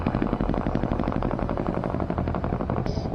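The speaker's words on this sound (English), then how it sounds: "The U.S. Marines start by taunting the enemy after seeing the Cobra helicopter approaching in the distance." A Cobra attack helicopter in combat fires in rapid bursts, loud rhythmic gunfire and rotor chatter pounding continuously close by.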